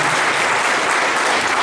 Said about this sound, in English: big round of applause for Gaurav and Sushant